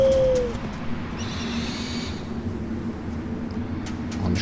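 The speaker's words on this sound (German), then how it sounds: "Wir rufen mal die Eule." A single short owl call in Far Cry Primal opens the moment, clear and fairly close, followed by a brief whooshing swell over quiet ambient wilderness hum.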